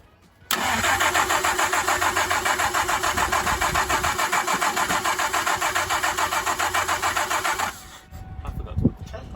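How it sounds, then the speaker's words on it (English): A classic car's engine cranks over on a new modern starter motor, a loud, rhythmic, fast chugging churn lasting about seven seconds before cutting off, followed by faint clatter. "So let's try and turn this over."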